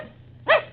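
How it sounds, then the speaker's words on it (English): A puppy gives one short, sharp bark, close and loud, over a quiet low background hum. "We got us a dog, Lon. A real show-enough dog."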